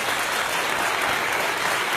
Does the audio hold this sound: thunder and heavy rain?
no